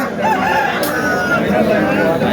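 A rooster gives a strong, drawn-out crow close by at a country chicken market, with other fowl clucking and a faint murmur of people behind it.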